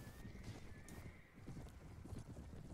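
Massed hoofbeats of a cavalry army in the Perisno video game, a dense, continuous drumming of many horses with a faint whinny, heard quietly and evenly throughout.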